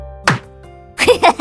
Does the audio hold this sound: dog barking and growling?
no